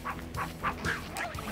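A dog barks in a SpongeBob video game, a rapid string of yappy barks over steady game background sound.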